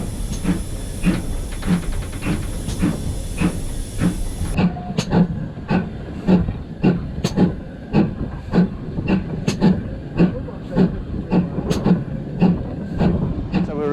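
A GWR Manor class steam locomotive chuffs in a steady, even rhythm with sharp exhaust beats over a constant steam hiss, heard fairly close and loud, with voices talking at times.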